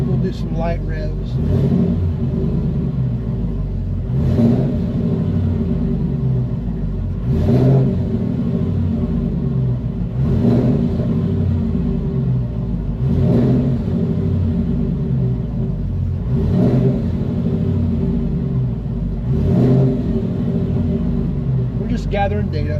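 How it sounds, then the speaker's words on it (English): Light revving of a pickup truck fitted with a Coyote engine, a steady idling rumble broken by short, evenly spaced throttle blips about every three seconds, with a person talking over it. "We'll do some light revs."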